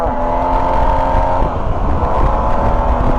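A 2022 Yamaha TMax 560 scooter pulls away and overtakes, its engine droning steadily with a smooth rising tone under strong wind rush, loud and close throughout.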